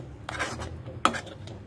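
A spoon stirs thickening coconut barfi mixture in a metal kadhai, giving two distinct scraping clinks against the pan, close and fairly quiet, with no voices.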